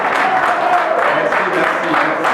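An audience at a senatorial election event in Ouesso, August 2023, applauds in a dense, steady wash of clapping that is moderately loud and continuous, with some voices mixed in.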